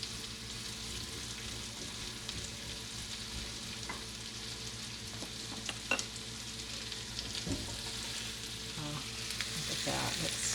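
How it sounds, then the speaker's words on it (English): Sweet onion sautés in butter in a pan with a soft, steady sizzle and crackle, quiet and close, broken by a few light scrapes and clicks of stirring near the end. "And I want to saute this until it gets a little bit soft and translucent."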